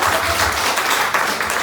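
Church congregation applauding during a thanksgiving service, a dense, steady wash of many hands clapping close and loud for the whole stretch, with no voices rising above it.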